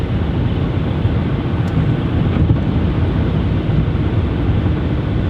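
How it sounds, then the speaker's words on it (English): Gusty spring wind buffets a car on a cold Wisconsin road, making a steady low roaring rumble of wind and road noise that stays loud and even throughout, with no speech. "A little cold and windy today, not unusual for springtime in Wisconsin."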